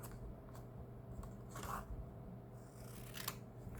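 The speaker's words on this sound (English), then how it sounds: "cut it along the edge" Scissors snip paper along the edge of a sheet laid on top of a notebook page; a few quiet, distinct cuts land at uneven intervals with a soft rustle between them.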